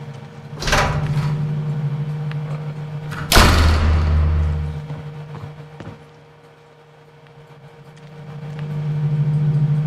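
A heavy door inside a lighthouse bangs twice in quick succession, loud and close, with a low hum continuing underneath and a faint knock later.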